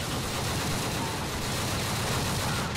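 Continuous distant-sounding gunfire in Grand Theft Auto IV, a steady rattling fusillade of rapid shots at moderate volume throughout the short stretch, with no speech.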